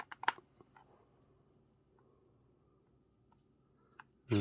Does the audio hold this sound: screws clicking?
yes